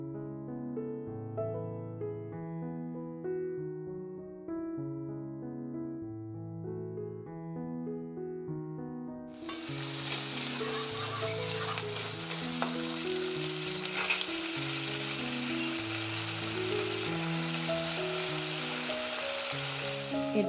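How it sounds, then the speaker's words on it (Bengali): A masala paste of onion, ripe chili and black pepper begins frying midway, a bright steady sizzle rising over soft background music that plays alone in the first half. "এইগুলো দিয়ে এখন ভালো করে মশলাটাকে ভেজে"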